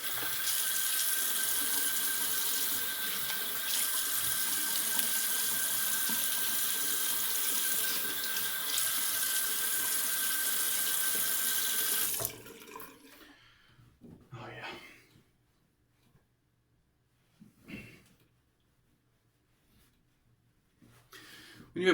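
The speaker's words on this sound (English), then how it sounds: "I'm going to rinse this alum off" A bathroom sink tap runs steadily, rinsing an alum block for about twelve seconds, a close, even hiss of flowing water that then cuts off, leaving quiet handling sounds and faint breaths.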